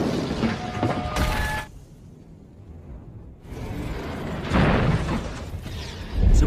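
A bomb explodes near a shop in a film, a loud, rumbling blast with a roaring burst, a brief quieter lull and then a second heavy surge of debris and rumble.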